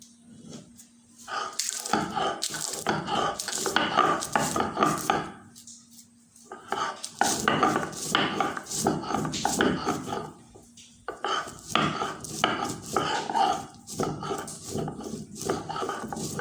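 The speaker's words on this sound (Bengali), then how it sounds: "এবারে আমি ভাজা মশলাগুলো বেটে নেব। প্রথমে লঙ্কাগুলো বেটে নেব।" Fried chillies and spices being ground by hand for village-style mango pickle, a repeated rough scraping and crushing in rhythmic bursts with short pauses, close and moderately loud.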